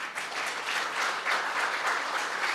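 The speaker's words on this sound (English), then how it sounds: "Please give a huge round of applause." Dense, steady applause from a convocation audience at a school graduation ceremony in Visakhapatnam, many hands clapping together at an even, sustained level throughout with no voices.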